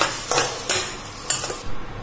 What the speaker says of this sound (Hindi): ओनियन फ्राई हो रहा है।